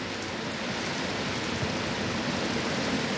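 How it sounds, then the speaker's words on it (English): Heavy rain pours steadily during an evening storm in Ohio, a dense, continuous hiss with no breaks, fairly loud and close, with no voices over it. "it's raining right now"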